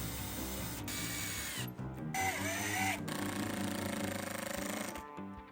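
A power drill running in reverse to make a pilot hole for a door strike plate, a loud steady whirring motor with a few brief stops and a pitch dip as it bites, heard close up.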